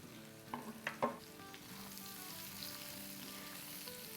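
Small red chillies and onion drop into a hot wok and sizzle, a few sharp clicks and splashes up front giving way to a faint, steady frying hiss with no talking.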